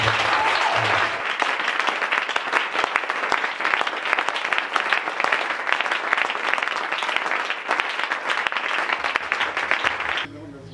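A church congregation in a Congolese ministry gathering applauds the pastor with sustained, dense clapping that carries on for about ten seconds before cutting off, with voices mixed in.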